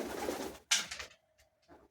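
Colored pigeons in a loft coo softly, a few low throaty calls close by with brief rustling between them and no talk.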